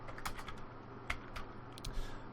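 Someone types on a computer keyboard during a Unity scripting session, producing a few quiet, irregular key clicks and taps over a low room hum, with no speech.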